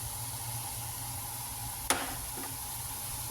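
Filling for lasagna or spring rolls, seasoned with soy sauce, pepper and salt, stirred in a frying pan with a steady low sizzle and one sharp scrape of the utensil midway.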